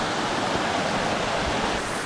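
A rushing brook pours steadily with dense, even water noise close by, loud and unbroken for the short stretch with no voices.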